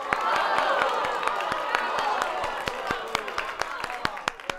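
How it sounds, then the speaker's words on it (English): A round of applause from a crowd, steady scattered hand claps over a soft murmur, the individual claps becoming sharper and more spaced toward the end. "a 5-second round of applause for the initiative"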